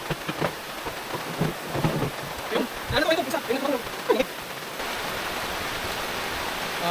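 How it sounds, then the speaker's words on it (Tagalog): Heavy rain pours down steadily, a constant hiss of drops on surfaces, while a few people talk briefly in the middle over the downpour. "Kasi napakalakas ng ulan eh."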